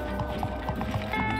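Horse hooves gallop in SpongeBob: The Cosmic Shake, a steady clip-clop rhythm running continuously and close, mixed with game music.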